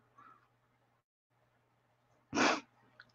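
A single sharp, close sneeze bursts out in an otherwise quiet room, preceded by a faint intake of breath.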